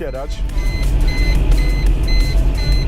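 A car engine runs in fifth gear with no oil, starting to seize: a loud, close, strained drone with low rumble, while a voice talks over it and repeated electronic beeps chime in the background.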